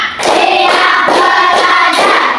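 Hands clap in unison on a counted beat, five sharp, loud claps evenly spaced about half a second apart, with voices chanting the count over them.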